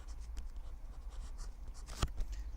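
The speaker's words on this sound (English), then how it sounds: "maybe I should write that down" Marker or chalk writing on a board during a math lecture, a soft continuous scratching with short strokes and one sharper tap near the end, over a low room hum.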